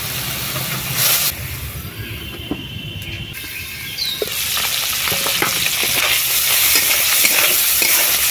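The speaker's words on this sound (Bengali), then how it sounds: "সরষে তেল দেবো, একটু হলুদ গুঁড়ো, লঙ্কা গুঁড়ো, অল্প একটু লবণ, জল, এবারে ডিমগুলো দিয়ে দেবো।" Fish roe frying in mustard oil with turmeric, chili powder, salt and water in a wok, a steady close sizzle with stirring scrapes and clinks that swells louder after a brief quieter stretch.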